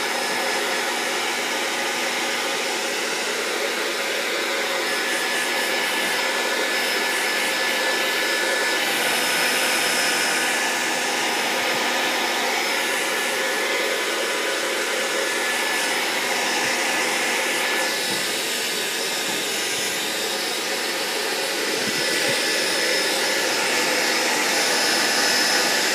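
A hair dryer blows continuously at close range while drying coffee-stained handmade paper, a steady loud whooshing whir with a constant pitch that runs for nearly half a minute with no talking.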